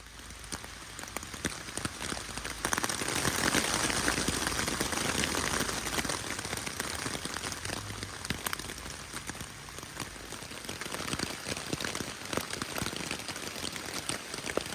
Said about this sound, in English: It's raining hard right now.